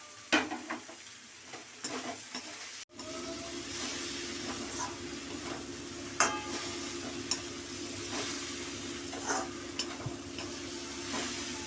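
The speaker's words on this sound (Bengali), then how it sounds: "এটা ভালো করে মশলার সঙ্গে একটু কষে নেব" Egg tadka masala with chopped green chili stir-fried in a pan, a steady close sizzle with repeated scraping clicks of a spoon through the masala and a brief pause near the start, no voices.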